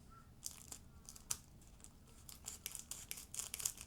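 Scissors snip and crinkle through the packaging of a parcel bought on eBay, a faint, close sequence of irregular sharp crunches and rustles with no voices.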